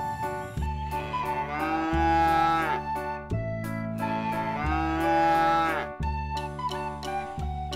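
A cow moos twice in long, drawn-out, loud calls, each lowing swelling and then fading, with short pauses between them.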